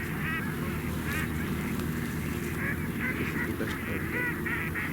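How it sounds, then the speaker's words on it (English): Ducks call in excited bursts during a waterfowl hunt, with repeated honking and quacking phrases over a steady outdoor background, moderately close and continuous throughout. "With all these ducks going nuts."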